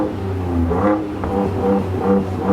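Ford Ranger Raptor 3.0 V6 engine revving with the exhaust in a sporty mode, rising and falling in several loud throaty pulls close by, with no talk over it.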